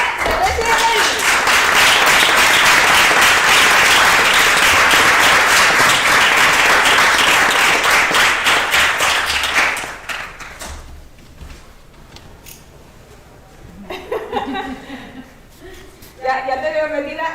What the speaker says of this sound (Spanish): Pues dando un gran aplauso